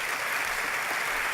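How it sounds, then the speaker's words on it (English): Dense, even applause from a convocation audience, a brief steady wash of clapping with no pauses. "Thank you for the applause"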